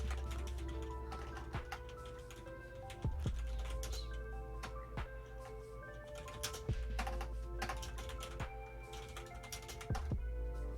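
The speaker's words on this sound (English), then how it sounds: "Oh, of course, I'm typing." Computer keyboard typing during a racing game session, a steady run of key clicks over a constant engine-like background hum, moderately quiet.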